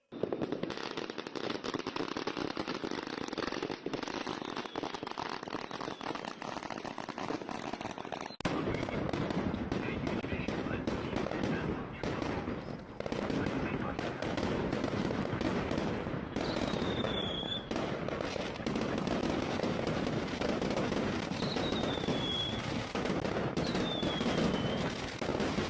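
Dense, continuous crackling of firecrackers bursting in rapid clusters on Lunar New Year's Eve night in China, loud and sustained, with a few whistling rockets rising in the background.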